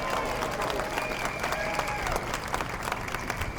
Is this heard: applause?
yes